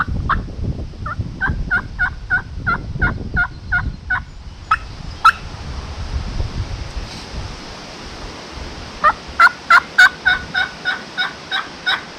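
Wild turkey gobbles in answer to a hunter's call on a windy day in New York, with two bursts of rapid rattling gobbles, the first moderately distant, the second louder, over steady wind noise.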